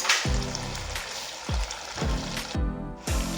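Tomato paste hits a hot pot with a steady sizzle and frying hiss, punctuated by several rhythmic scraping thumps as more is transferred in, close and fairly loud.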